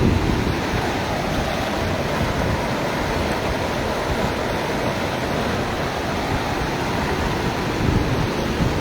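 Torrential floodwater after a night of heavy rain at Tal Sanghar near Taunsa Sharif, rushing fast in a dense, unbroken roar with wind buffeting the microphone.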